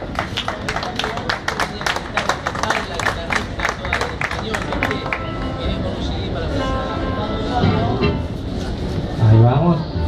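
Audience applause and clapping at an Argentine tango show in a Buenos Aires night venue, a dense steady patter of many hands with crowd murmur, swelling slightly louder toward the end.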